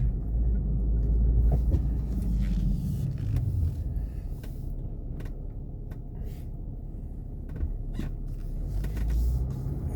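Steady road traffic rumbles close by, a continuous low engine drone with passing vehicles and occasional mechanical clicks.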